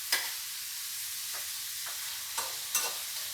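Beef sautéed in a pan gives a steady bright sizzle, broken by a few sharp scraping stirs of a spatula, close and moderately loud.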